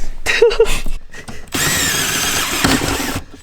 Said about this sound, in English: mark and drill the holes for the actual shifter